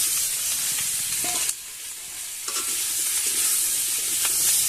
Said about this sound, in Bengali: এবার আমি আলুটা একটু ভেজে নেব।